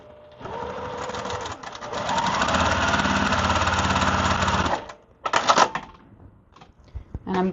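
A sewing machine stitches quilt triangle pieces in a long continuous run of rapid mechanical needle clatter, stopping abruptly, then a short second burst and a few light clicks; a voice speaks briefly near the end.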